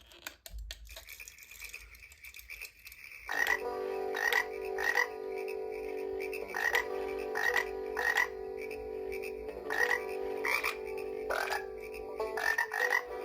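A chorus of frogs croaks in a steady, rhythmic pattern of repeated calls, loud and close, continuing for about ten seconds after a quiet start.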